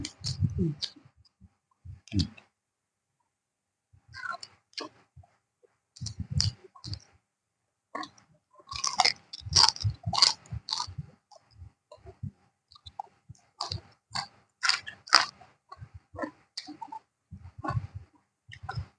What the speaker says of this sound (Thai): เคี้ยวข้าว